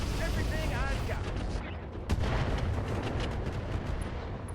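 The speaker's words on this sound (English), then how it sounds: "Firing everything I've got." Mech weapons fire in the video game RogueTech as a dense barrage of booming shots and blasts that continue without pause, with one sharp impact standing out midway.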